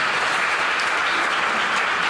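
A church congregation at an evening gathering claps in praise, a dense, continuous wash of many hands close by, loud and even throughout with no break.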